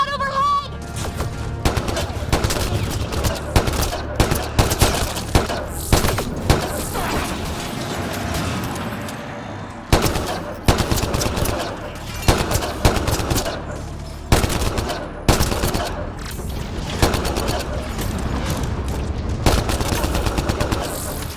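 Sustained machine-gun fire and repeated gunshots in a Mass Effect Andromeda battle on Kadara, loud and dense bursts over a continuous rumble of combat with occasional impacts, and a voice briefly shouting through the din.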